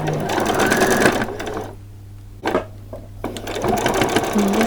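Sewing machine stitching the seam of a fabric chef's hat, a rapid mechanical whir that runs, stops for a quiet moment with a couple of short bursts, then resumes steadily up close.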